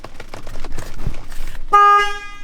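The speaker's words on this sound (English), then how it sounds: "I wonder if the horn works." After a couple of seconds of rustling and handling noise, the horn of a 31-year-old BMW E30 gives one clear, steady honk that lasts under a second.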